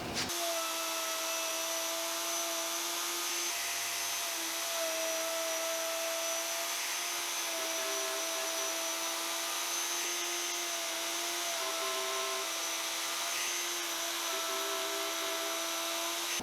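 A plunge router cuts haunched tenon mortises into wood, a loud, steady high-pitched whine running without a break, close by, with slight shifts in tone as the bit plunges and moves.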